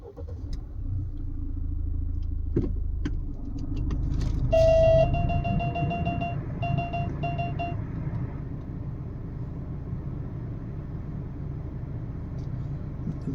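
A red Mahindra Thar SUV cranks and starts, and then its engine settles into a steady idle rumble. Chiming warning tones ring in short bursts as it catches.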